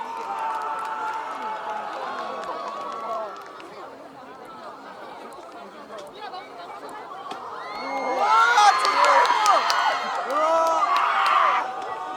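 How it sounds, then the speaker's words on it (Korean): Festival audience at an outdoor stage at the Gangjin Bay reed festival chattering, then swelling into loud cheering, whoops and shouts from about eight seconds as the act is introduced, with crowd noise throughout. "큰 박수 부탁드립니다"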